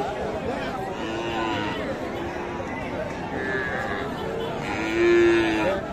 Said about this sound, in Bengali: দর্শক একটু পাতলা গরু